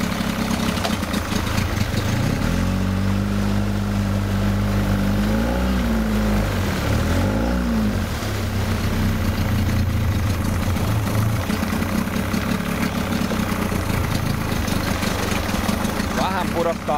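A Yamaha 30 hp outboard motor runs close by at a steady mid-pitched drone. Its revs rise, then sag and waver several times before settling into a lower, uneven idle.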